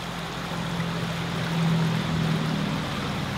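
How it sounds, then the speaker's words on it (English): Water pouring and gurgling into a bottle filled from stirred-up, sediment-laden outdoor water, a steady close rushing wash that swells slightly midway, with no talking. "And now I'm gonna fill this bottle."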